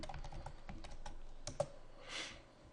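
Soft, rapid keystrokes tap out a command on a computer keyboard, close and fairly quiet, a steady patter of clicks ending with a brief rustle.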